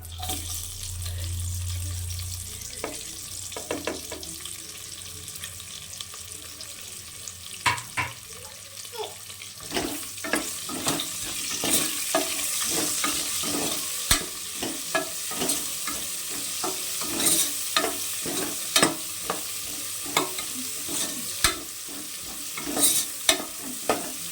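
Onions frying in a pan for mutton pulao, a continuous sizzle broken by repeated clattering stirs of a spoon against the pan, growing busier over time, with no talking.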